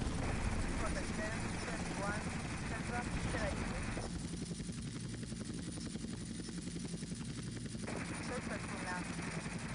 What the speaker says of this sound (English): This helicopter's doing me head in now.